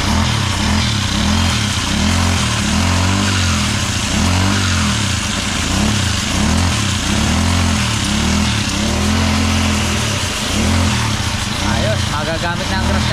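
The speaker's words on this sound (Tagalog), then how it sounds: "Ayos, magagamit ng grass cutter." A grass cutter's small engine runs steadily and loudly up close, its pulsing drone holding an even rhythm with slight wavering throughout.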